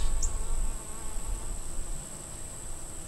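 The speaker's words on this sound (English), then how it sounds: "We got bees." A small swarm of honey bees buzzing steadily in a close, dense drone, with a thin high whine running throughout and no voices.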